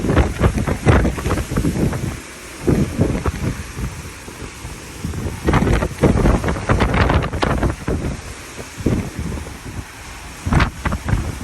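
Strong wind buffets the microphone in gusty bursts over the rush of rough open-ocean water on a cruise ship sea day, about 200 miles from land, loud and irregular with no one speaking.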